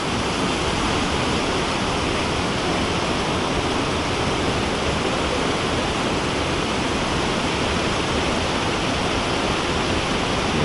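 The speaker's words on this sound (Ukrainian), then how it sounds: "і потекла річка далі" Johnston Canyon river rushing over rocks and logs, a loud, dense, unbroken roar of flowing water heard close up with no voices.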